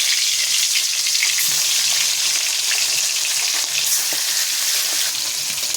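Fish frying in plenty of hot oil, a dense continuous bright sizzle with crackling spatters, close and steady throughout, no talking.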